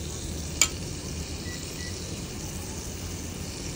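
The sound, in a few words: sautéing onions in a pan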